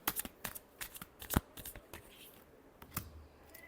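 A deck of tarot cards is shuffled with a quick run of crisp, papery riffles and taps, close and fairly quiet, each burst brief and uneven.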